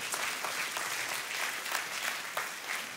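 A church congregation claps loudly for the King of Kings in sustained, dense applause, with individual sharp claps popping out of the steady wash throughout.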